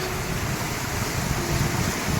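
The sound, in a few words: roaring waterfall being crossed on mountain trek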